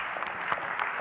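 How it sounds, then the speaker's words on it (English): Audience applause at a technology festival closing and award ceremony on a main stage, honouring the tech booth crew; a brief, steady burst of dense clapping at moderate distance, with no speech. "So round of applause for them too."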